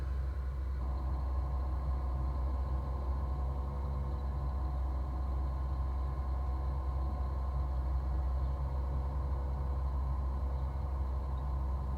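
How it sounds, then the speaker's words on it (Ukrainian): Sugar beet harvester unloading through its conveyor into a transfer loader: a steady low machine rumble and drone, unbroken and fairly quiet, with no talking. "Хвилина часу і комбайн вигрузився"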